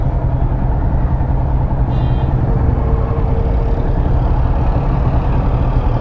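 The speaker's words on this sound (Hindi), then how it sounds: "ओह हो, इतना बड़ा ट्रैक्टर।" A large tractor engine rumbles past in heavy city traffic on a Gurgaon road, a steady loud low drone with mixed vehicle noise and a short high beeping tone partway through.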